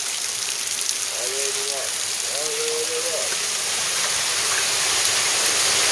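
Cold water pours and splashes continuously at the Beusnita cascade inside a cave, a dense, close, steady rushing hiss, with a brief whistle-like tone rising over it twice.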